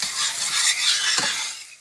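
A chopped medium onion cooks in a pan as a steady, close sizzle with soft stirring scrapes, fading near the end.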